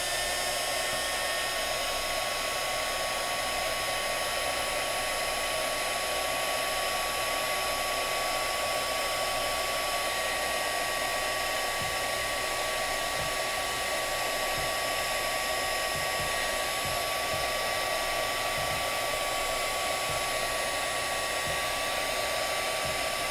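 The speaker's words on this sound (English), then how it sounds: "I'm going to go ahead and grab my iron here, or what do you want to call this? The heat gun." A heat gun blows a steady, loud, continuous airflow roar while shrinking heat-shrink tubing on a 1/72 scale AMT Razor Crest model build, unbroken from start to finish with no talk.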